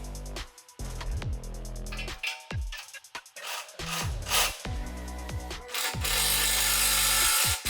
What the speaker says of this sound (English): Grab your dependable impact wrench and tighten down those final bolts.